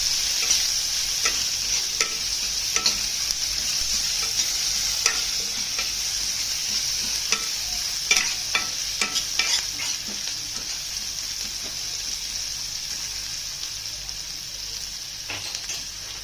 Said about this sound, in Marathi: कांदा चांगलं लाल करेपर्यंत भाजून घ्यायचं.